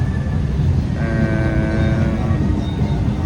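A passenger train runs through Kerala with a loud, steady rolling rumble heard from on board and a faint tonal hum rising partway through, with no talking.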